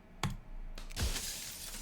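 A mirror in the video game Slay the Princess cracks into jagged shards of broken glass, giving two sharp cracking hits about a second apart, each followed by a bright glassy scatter.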